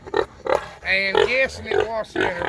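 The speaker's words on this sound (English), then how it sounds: "we've got her to try to raise a litter of show pigs here" A show pig sow grunts in short, close, rhythmic bursts while someone talks over her.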